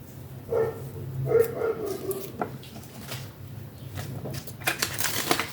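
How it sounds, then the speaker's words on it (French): A female dog barks at a passing cat, a few scattered barks and yips at moderate distance with quiet gaps between them. "elle aboie."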